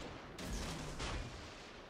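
Heavy naval guns in World of Warships fire with a deep, booming salvo, followed by a second blast and a lingering rumbling roll, loud and close.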